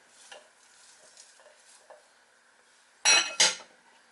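Cauliflower pieces drop into a crock pot of beef stew with carrots, celery and green peppers. Faint clinks come first, then two loud, sharp clattering thuds close together near the end.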